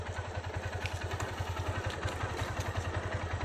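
A motorcycle ridden slowly by a learner, its engine putting out a steady low rhythmic thump with faint clatter, moderately distant and quiet, no voices.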